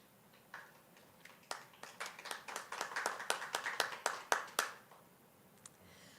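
A small scattered round of clapping for graduates at a graduation ceremony, a few hands starting sparsely, building into a brisk patter, then fading to isolated claps.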